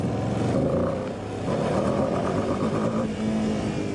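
Ducati V2 motorcycle engine while riding, a loud continuous drone that rises and dips slightly with throttle, wind rushing underneath, no talk.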